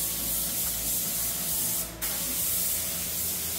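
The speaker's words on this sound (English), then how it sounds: "Spraying on the silver stripe." Aerosol spray paint laying a silver nose stripe on a 1968 Triumph TR250, a loud, steady close hiss with one brief break partway through.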